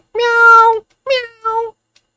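A cat meows clearly up close in Minecraft: one drawn-out meow followed by a shorter two-part meow, loud with no other sounds around.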